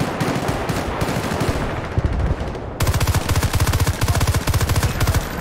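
Rapid automatic rifle fire in Battlefield: Bad Company 2 comes as dense, loud, close bursts, then a fast, evenly spaced rattling string of shots.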